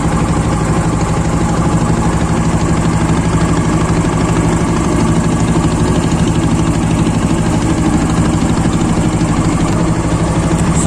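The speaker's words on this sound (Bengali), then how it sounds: "আমাদের ইঞ্জিন চালিত বোট আর কি" A motor boat's engine idles and chugs steadily on the Karnaphuli river in the evening, a loud continuous low drone with a mechanical knock that holds unchanged throughout.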